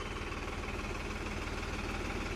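A tractor engine idles with a low, steady throb and an even mechanical pulse, fairly quiet and unbroken throughout, with no one talking.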